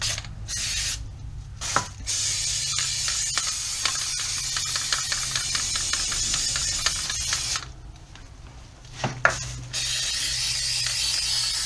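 Undercoating sprays onto the underbody of a BMW E46 330xi as a close, steady hiss in long bursts, broken by brief pauses and light mechanical clicks from the spray gun.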